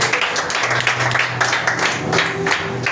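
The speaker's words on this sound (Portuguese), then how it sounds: "Receba a serva do Senhor com as palmas." Church congregation clapping to welcome a woman preacher at a Saturday morning consecration service; close, loud bursts of hand claps from a modest crowd, uneven and lively, with faint background murmur.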